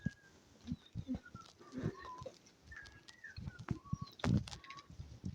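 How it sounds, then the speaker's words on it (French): A nightingale sings on a hillside path above troglodyte cave dwellings near Turquant, sending clear varied whistled phrases and trills through quiet outdoor ambience, mixed with other birds and scattered footsteps and rustling. "et là, il y en a un rossignol qui chante"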